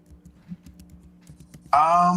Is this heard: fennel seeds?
no